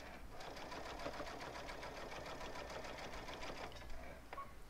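A sewing machine stitches binding onto thick Cuddle Minky fabric, a steady fast mechanical chatter of the needle running continuously and fairly quietly at close range, with no talking.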